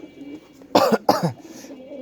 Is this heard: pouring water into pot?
no